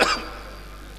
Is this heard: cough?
yes